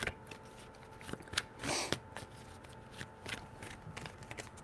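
A deck of tarot cards is shuffled by hand in a string of quick riffles and soft slaps, with one longer riffle burst near the middle, all close and clear with no talking.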